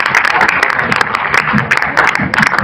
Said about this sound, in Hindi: एक बार हमारे सारे टीचर्स के लिए जोरदार तालियां।